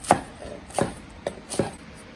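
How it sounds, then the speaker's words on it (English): A knife rough-chops fresh cilantro on a board, giving four sharp, evenly spaced thuds roughly every half second, close and clear with no talking. "Now I'm gonna take my cilantro, just a rough chop."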